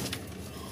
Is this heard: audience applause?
no